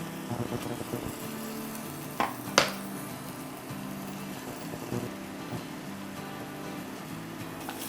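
Tomato paste and ground spices frying steadily for butter prawn karahi, a soft continuous sizzle with a couple of sharp utensil scrapes partway through.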